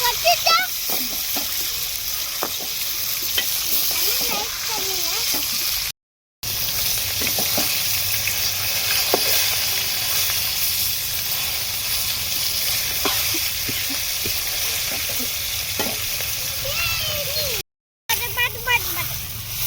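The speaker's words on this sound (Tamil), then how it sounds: "மீனை பொரிச்சு முடிச்சாச்சு." Fish frying in oil on an outdoor family lunch cookout in Kerala, a steady close sizzle with bursts of crackle and splatter running throughout, with voices talking over it.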